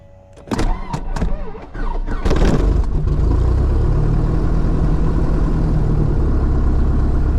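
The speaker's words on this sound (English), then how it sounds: "now we're gonna start up and then we're gonna push in the mixture as the engine comes alive" A small aircraft's piston engine cranks with a few sharp clicks and bursts, then catches and settles into a steady, loud, close idle rumble that runs on without talk.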